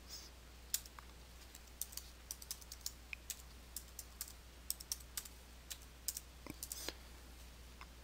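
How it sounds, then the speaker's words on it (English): Someone types on a computer keyboard, producing a steady run of light, irregular key clicks with a few louder taps. The sound is close but quiet, over a faint background hum, and no one speaks. "Only when you want to begin a new paragraph is it necessary to press the Enter key on your keyboard."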